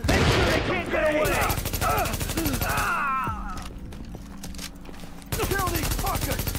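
Gunfire in The Division, bursts of automatic shots crackling over loud voices shouting in the first half, then a quieter stretch of scattered pops before heavy firing and yelling return.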